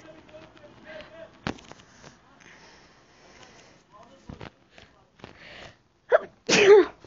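A single sharp sneeze bursts out near the end, preceded by a short sniff, amid soft background clicks and faint rustling.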